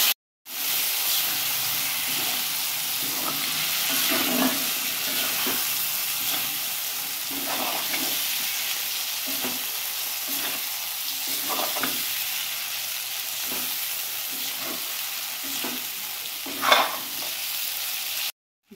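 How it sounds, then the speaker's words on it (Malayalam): Boiled pork and plantain being stirred into a sizzling masala for a Kerala-style pork dish, with a steady frying hiss broken by repeated scraping stir strokes throughout and no talking. "വേവിച്ച് വെച്ചിരിക്കുന്ന പോർക്കും കായയും കൂടി ഇതിലേക്ക് ചേർത്ത് കൊടുത്തു കേട്ടോ."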